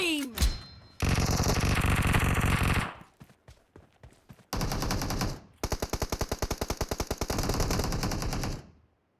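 Automatic gunfire in the mobile shooter game BGMI, long sustained bursts of rapid loud shots with sharp single reports and brief gaps between volleys.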